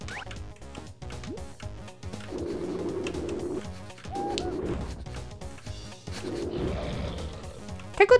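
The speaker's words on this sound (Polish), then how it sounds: "Ale rzeczywiście mnóstwo tych kruków." Crows in the platform game Jazz Jackrabbit 2 give repeated cooing, croaking bird calls in several bursts over busy game music, ending with a few sharp clicks.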